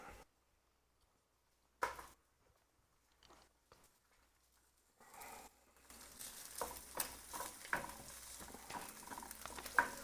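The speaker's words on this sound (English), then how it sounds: "just fry an egg in a little bit of oil or butter, sunny side up" Sunny-side-up egg fries in a little oil or butter, starting with faint isolated taps and then breaking into a steady crackling sizzle with scattered pops for the last half.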